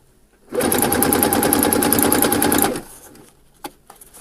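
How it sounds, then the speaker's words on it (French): A sewing machine topstitches elastic around a swimsuit, running in a steady fast burst of rapid stitching for about two seconds, then stopping, followed by quieter fabric handling and a small click. "Et donc je vais surpiquer tout le tour."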